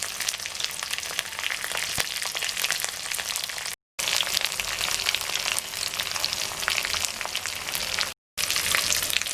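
Dried red chillies frying in hot oil with curry leaves and green chillies for a spinach and amaranth stir-fry, a dense continuous sizzle and crackle heard up close, broken by two brief silent gaps.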